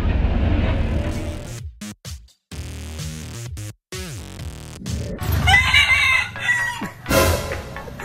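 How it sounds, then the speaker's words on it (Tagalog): A rooster crows loudly and close by at a market in Taytay, with clucking and other fowl sounds around it, and brief silent gaps between bursts. "Unang bungad pa lang, manok na agad."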